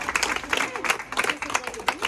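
Scattered crowd clapping at an Aam Aadmi Party campaign gathering in Indore, uneven bursts of hands with a few voices mixed in, fairly close and short.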